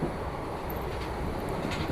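The Koyna Express rolls along at speed, a steady, dense rumble of wheels and carriage noise heard from inside the train, constant and unbroken with no talking.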